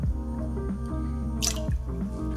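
Bourbon pours into a cocktail shaker in a soft, quiet stream, with small dripping and gurgling splashes continuing steadily throughout.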